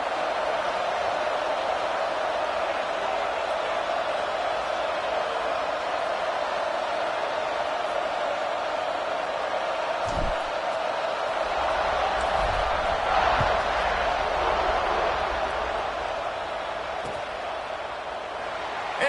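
A large stadium crowd at an Auburn football game keeps up a steady, broad roar of cheering around a kickoff, with one brief thump partway through. A commentator talks over the crowd.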